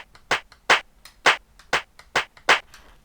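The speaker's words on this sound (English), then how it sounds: "the legendary hand clap" Sampled hand clap from a Roland TR-707 drum machine, triggered six times in an even rhythm, each hit a crisp, bright, close burst with short decay and quiet gaps between.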